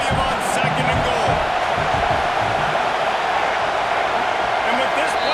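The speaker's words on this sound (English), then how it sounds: "These fans raising the volume on 2nd and goal." A loud stadium crowd roars in the College Football 26 video game during a Wisconsin vs Miami (OH) game on second and goal. The roar forms a dense, sustained wall of noise with a commentator talking over it.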